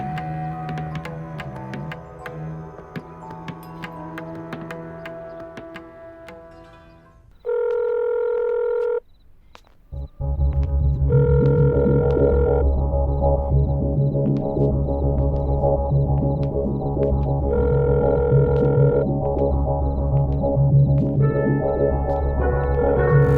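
Phone ringback tone pulses for an unanswered call, a single long tone burst followed by repeated ringing beeps over a loud, dense music bed throughout; no talking.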